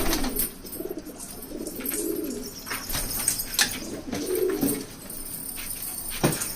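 Pigeons coo nearby in soft repeated throaty calls, with rustling and occasional clicks and bumps around them.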